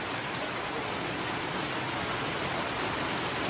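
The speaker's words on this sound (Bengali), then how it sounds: "তুমুল বৃষ্টি নামছে না?" Heavy monsoon rain pours down in a dense, unbroken roar of even hiss, loud and close throughout, with no voices.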